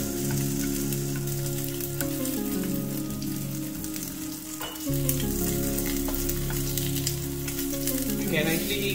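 Luncheon meat sizzles steadily in a pan over medium heat, a continuous close frying crackle with a brief dip midway before resuming at full strength.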